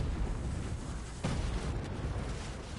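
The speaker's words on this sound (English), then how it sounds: "that last explosion killed the whole house" A deep, muffled dynamite explosion in Fortnite booms once partway through, over a steady low rumble of background noise.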